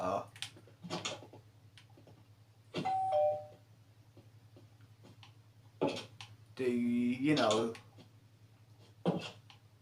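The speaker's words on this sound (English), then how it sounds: "The buzzer here, whatever you call it here." A doorbell buzzer in the video game Minecraft rings in a few short electronic tones over a steady low hum, with a person talking between the rings.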